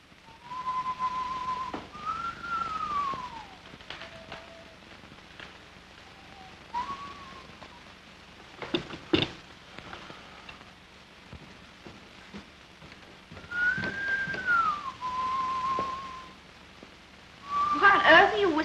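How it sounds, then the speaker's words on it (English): Someone whistles a slow, mournful melody with long held notes and pauses, fairly close, with brief knocks and rustles between phrases. "Why on earth are you whistling that mournful tune?"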